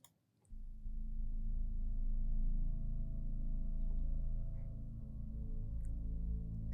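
Sustained Alchemy soundscape synth pad in music production software, a dense low drone with layered tones that swells in after a brief silence and holds steady, with faint higher glints drifting above.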